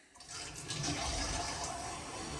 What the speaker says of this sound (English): Run the outside faucet.